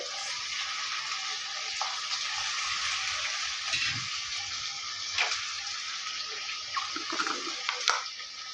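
Potatoes, beans and other chopped vegetables for sambar sizzle steadily in a pan with salt, a soft continuous frying hiss with a few scrapes and stirs near the end.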